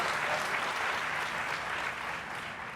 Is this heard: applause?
yes